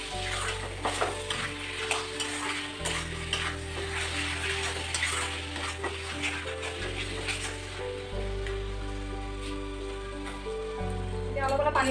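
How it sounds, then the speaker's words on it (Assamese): Ground ginger and onion paste sizzles steadily in a frying pan while being stirred for mutton korma, with soft scraping under continuous tonal background music. "গ্ৰাইণ্ড কৰি থোৱা পিঁয়াজখিনি দি পেলাই এতিয়া ভালকৈ লাৰি দিম"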